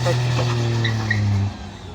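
A Maruti 800 car is driven briefly, its engine giving a loud, steady low hum for about a second and a half before the sound drops away to quieter background noise.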